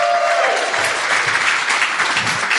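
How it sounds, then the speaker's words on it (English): A game show studio audience gives a contestant a big round of applause, loud continuous clapping with a little cheering that holds evenly throughout. "Give Brendan a big round of applause, everybody"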